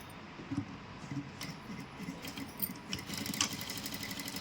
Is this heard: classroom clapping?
no